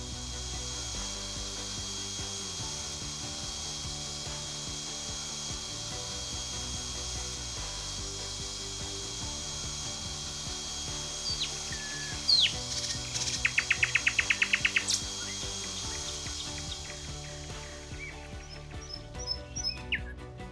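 A power sander with sanding discs grinds continuously against a brick wall, with a steady abrasive whir and a few sharper rattling bursts near the end.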